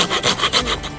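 A hand saw rasps through a wooden log in quick back-and-forth strokes, loud and close, about five strokes in a second.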